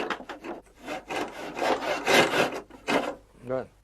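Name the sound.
trimming the ends of a wooden tenon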